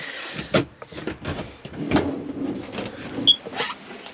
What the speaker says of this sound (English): to open all your cabinets on the vehicle, if you just push the catch in below